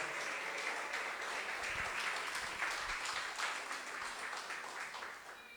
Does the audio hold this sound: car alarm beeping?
no